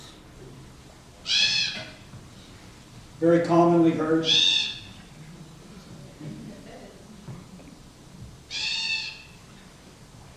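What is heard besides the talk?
crow yell calls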